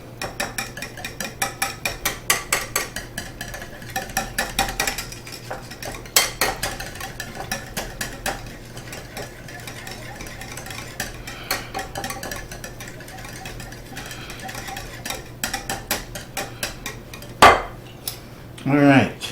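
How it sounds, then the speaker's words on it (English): Crab Louie dressing whisked in a bowl, rapid rhythmic metallic clicks and rattles of a whisk against the bowl in bursts, close, with a brief louder knock near the end. "And now let's go ahead and whisk this together."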